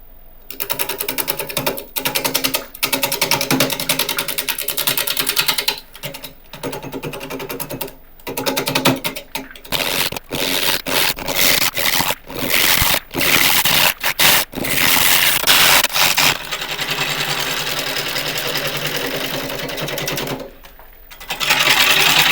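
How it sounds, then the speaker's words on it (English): A half-inch bowl gouge cutting into a spinning wood burl on a lathe, giving a rough, rattling scrape broken by short pauses as the tool engages and lifts off the irregular surface, steady and close. "I'll be starting with a 1/2 inch bowl gouge."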